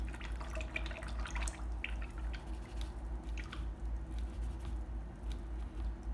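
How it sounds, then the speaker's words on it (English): A paintbrush is swished and rinsed in a water jar during an acrylic rooster painting session, giving soft, irregular dripping and splashing patters close up over a steady low hum, with no talking. "you can wash your brush out"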